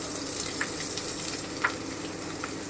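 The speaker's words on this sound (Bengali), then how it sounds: "এবারে আমি কুচনো পেঁয়াজটা দিয়ে দিলাম রসুনটা একটু ভেজে কুচনো পেঁয়াজটা দিয়ে দিলাম" Chopped onion goes into a pan with lightly fried garlic, giving a steady close sizzle and frying hiss with a few small crackles and a brief stir sound, no voices.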